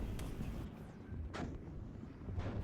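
Distant explosive thuds of mortar and artillery fire in the WARNO battle game, several muffled booms over a steady low rumble, with sharper impacts around the middle and end.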